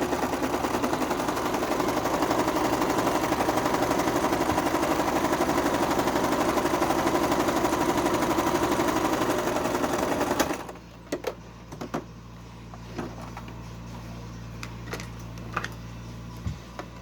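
A sewing machine stitches lace onto a cotton quilt block in a loud, steady, rapid needle chatter for about ten seconds, then stops, leaving quieter scattered clicks and handling noises.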